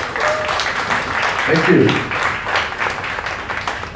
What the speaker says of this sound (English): I want you all to give one big round of applause for yourselves and Dr. Sakthi first.